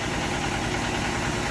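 A rebuilt John Deere 650 tractor's engine idles steadily right after being cranked, a close, even, knocking mechanical rumble heard alone.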